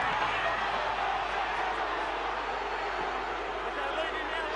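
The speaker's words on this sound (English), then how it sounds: "the Sharks crowd getting very boisterous here" A rugby league stadium crowd of Sharks fans, Cronulla against Manly, sends up a steady, distant roar of noise that holds even throughout, with no distinct cheer standing out.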